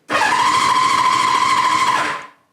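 A classic Honda motorcycle engine turns over and runs, giving a loud, close, steady mechanical drone with a sustained tone. It lasts about two seconds, then cuts off abruptly.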